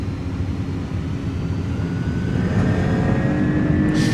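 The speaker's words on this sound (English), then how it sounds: "Takeoff power is set." iniBuilds A300 jet engines at takeoff power in a flight simulator, a loud continuous roar with a rising whine that swells slightly toward the end.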